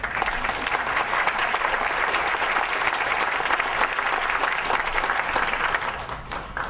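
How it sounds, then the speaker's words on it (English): An audience claps loudly and steadily for Robert Merriweather, a vice president asked to stand, with dense applause filling the whole stretch and no talk over it. "I had to ask Robert to stand up so we can give him a big round of applause"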